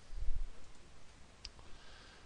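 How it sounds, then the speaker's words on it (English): A single crisp computer mouse click lands midway through a quiet stretch with faint low background rumble. "Then I'll click OK."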